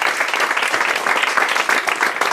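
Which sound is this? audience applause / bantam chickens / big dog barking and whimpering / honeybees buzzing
audience applause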